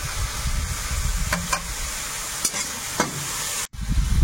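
Ginger garlic paste sizzles and fries loudly in hot oil with onions, a continuous crackling hiss broken by a few sharp scraping strokes of stirring, with no voices.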